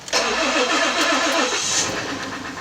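A Ford Taurus 3.5L engine runs loudly up close with a knock, a fast, even mechanical pulsing over a dense engine roar that holds steady before easing slightly, with no talking.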